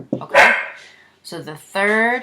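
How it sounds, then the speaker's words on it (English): A pet dog lets out one sharp bark, with a brief yip just before it, while a person keeps talking during a music theory lesson. "sorry, that's my dog."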